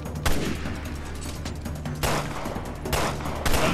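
Gunfire in Resident Evil Revelations 2 comes as four sharp, loud shots spaced irregularly over a low, steady in-game hum. No one speaks.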